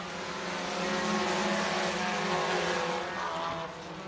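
Stock cars race around the Crawford County Speedway dirt oval, a loud roaring wall of engines sweeping past together, sustained and then easing off slightly at the end.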